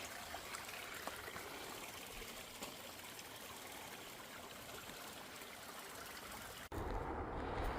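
A stream near a waterfall babbles and trickles steadily at low volume, a continuous gentle rush of water that briefly cuts and resumes near the end.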